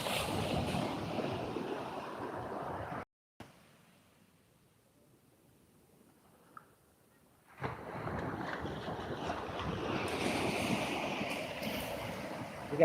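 Ocean waves roll and wash steadily at Hetalu beach on Nias, with strong wind buffeting the microphone, cut by a sudden quiet gap in the middle before the surf returns.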